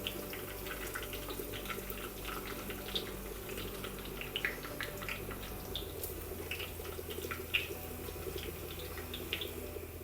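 Dried red chillies and mustard seeds frying in hot oil with onion in a pan for a pumpkin curry, a faint continuous sizzle sprinkled with soft pops and crackles.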